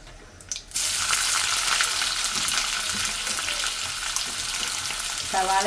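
Chopped onion frying in a pan for bhatura and kadala curry, a steady loud broadband sizzle that starts abruptly after a quiet moment and holds throughout, with a brief clink near the end.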